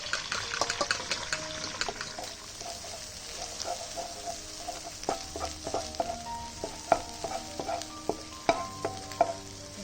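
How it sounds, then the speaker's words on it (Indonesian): Eggs frying and being stirred in a pan for stir-fried flat rice noodles (kway teow), with a steady sizzle under scattered clinks and scraping taps, close and fairly quiet, no talk. "Dari goreng telur dulu."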